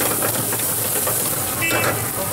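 Red onion sizzles in hot vegetable oil for paneer tikka masala at a street food stall, a steady dense frying hiss filling the clip, close and loud, with a brief metallic clink near the end.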